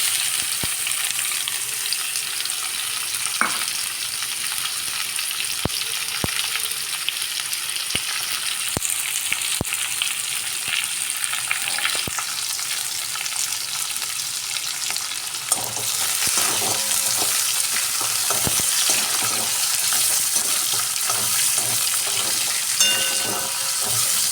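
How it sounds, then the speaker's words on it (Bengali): Chopped onions frying in a pan over tempered spices, a continuous close sizzle with scattered stirring clicks and scrapes, growing slightly louder partway through, no talking. "পেঁয়াজটা আমার এখানে ভাজা ভাজা হোক"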